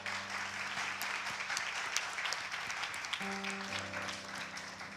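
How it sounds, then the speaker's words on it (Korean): Church congregation at a Sunday chapel service applauds to welcome two staff members, a steady broad wash of clapping from many hands at a distance, with a low sustained instrumental tone underneath. "앞으로 모실 때 큰 박수로 환영하겠습니다"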